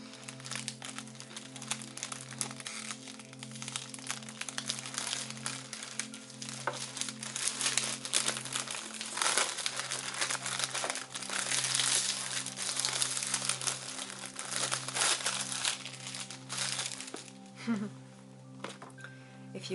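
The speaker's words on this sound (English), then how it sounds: "She's using it for crinkles, crinkle tingles." Crinkly material is handled for ASMR, soft rustling and crinkling in irregular bursts under a low steady hum, close and fairly quiet.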